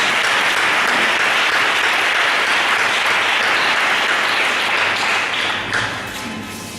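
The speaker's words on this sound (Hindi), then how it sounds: "आइए ताली बजाते हुए हम" An audience at an evening gathering gives loud, continuous applause to welcome a speaker to the platform, a dense sheet of clapping that tapers off slightly near the end.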